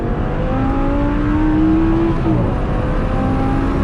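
Audi R8 with V10 engine and R-tronic automated gearbox, droning loud and close as revs climb steadily, then a pitch drop at a gear shift before pulling up again.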